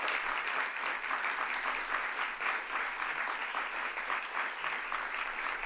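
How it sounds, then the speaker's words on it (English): An audience at a bill-signing event on LGBTQ protections in New York applauds, a steady wash of many hands clapping at an even level throughout, moderately distant. "Let's give them both a round of applause."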